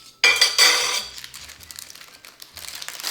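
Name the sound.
opening parchment paper pouch of baked pesto salmon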